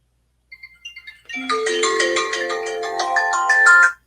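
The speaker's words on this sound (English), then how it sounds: "Sorry about that. My phone never rings." A mobile phone plays a melodic ringtone, starting with a few soft notes and then a loud, steady run of chiming tones for about two and a half seconds before cutting off, with no talk over it.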